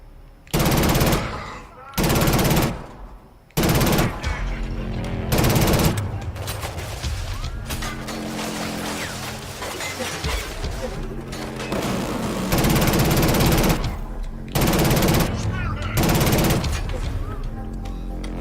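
Heavy automatic gunfire from the Killzone Shadow Fall video game on a PS4 Pro at max difficulty. Loud bursts come in several repeated volleys with dense battle noise between them, and a voice is faintly present.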